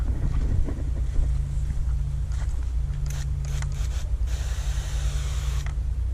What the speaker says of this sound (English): I'm just gonna spray it off